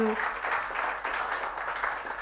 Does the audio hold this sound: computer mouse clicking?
no